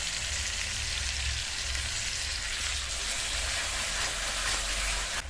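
Spice paste mixed with nut paste frying in oil for a Bengali fish curry, a loud, dense, continuous sizzle with a low rumbling bubble underneath, close up and uninterrupted, with no voices.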